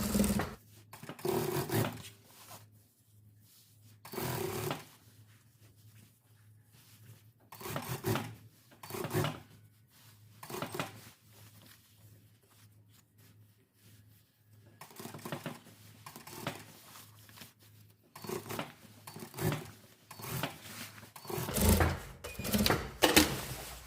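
A sewing machine stitches a seam on a vest with French sleeves in short separate bursts of close rattling whir, broken by quiet pauses between runs.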